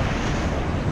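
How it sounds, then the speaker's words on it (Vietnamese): Big sea waves crash at Hai Van Pass in rough weather, a dense roaring wash of surf mixed with wind buffeting the microphone, steady and close. "Này sóng to quá."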